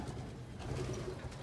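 Pet pigeons or doves cooing softly in an aviary, a low, rolling, repeated coo heard close but quiet, with no talking over it.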